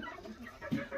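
An Aseel rooster clucks, a few soft, short throaty notes close by, with one louder cluck near the end.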